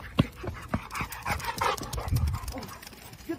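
A dog pants and whimpers close by in short breathy bursts, with some scuffling and faint voices in the background.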